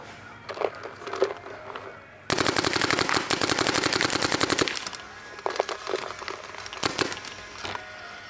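Two paintball markers, a DLX Luxe 2.0 and a Planet Eclipse Geo 3, fire in quick strings of sharp popping shots, a rapid burst of about twenty close reports followed by scattered single and paired shots.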